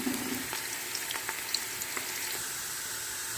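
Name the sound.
onions frying until brown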